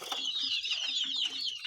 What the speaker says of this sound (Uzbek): juda zo'r jo'jalar.